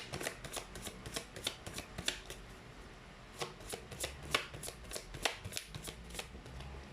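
A deck of life purpose oracle cards is shuffled by hand up close, a quick run of crisp riffling slaps and flutters in uneven bursts, fairly quiet and with no talk.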